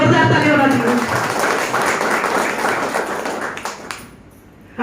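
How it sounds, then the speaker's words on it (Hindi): An audience claps loudly for a direct-selling trainer, a broad wash of applause with talking over it at first, then fading away near the end before a sudden new sound. "एक बार सर के लिए जोरदार ताली होना चाहिए।"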